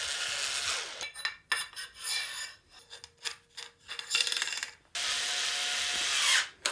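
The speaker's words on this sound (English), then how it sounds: "My newest workshop tool is my super low powered electric screwdriver." A small low-powered electric screwdriver whirs in short bursts with pauses and clicks between them, then runs continuously near the end, close and fairly quiet.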